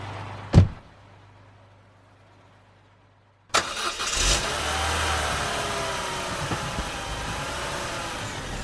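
A car engine cranks and catches after a brief sharp click and near silence, then settles into a steady running rumble close by.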